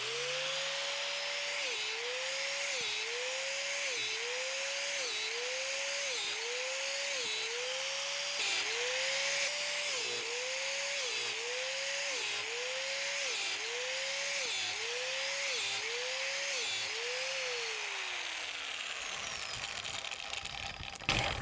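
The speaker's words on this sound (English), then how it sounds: "We'll turn the drill on, and I'm going to be drilling holes about 6 inches apart in a row" An electric drill bores a row of holes into a log set on a sawhorse for mushroom inoculation, its motor whining steadily up close and dipping briefly with each hole in a regular rhythm about every second, then winding down at the end.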